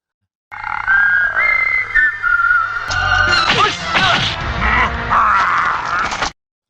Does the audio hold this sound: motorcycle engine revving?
no